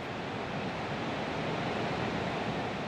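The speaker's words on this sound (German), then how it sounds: "Eines der gefürchteten Pilatusgewitter lässt den Giesbach anschwellen." A mountain stream swollen after a thunderstorm rushes through a gorge, a dense, steady roar of water filling the whole moment with no pauses or voices.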